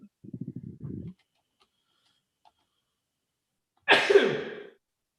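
A single loud, sharp sneeze bursts out near a microphone during a wrestling results podcast, following a short muffled vocal sound and a stretch of near silence.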